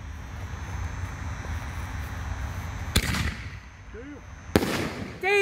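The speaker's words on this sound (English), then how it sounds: "we got the 5-inch Nishiki Super Cans by Heavyweight Fireworks. This is Nishiki with strobe." A 5-inch Nishiki Super Can canister shell with strobe from Heavyweight Fireworks bursts loudly at close range twice, each boom followed by a crackling, sizzling tail, over steady outdoor background noise with brief voices.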